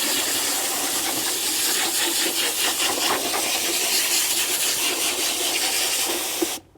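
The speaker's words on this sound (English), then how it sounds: "I take my bucket and this is where I just take my nozzle up against the bucket itself." A hose nozzle sprays water hard against a bucket to clean a car wash mitt, giving a loud, steady hiss that cuts off sharply at the end.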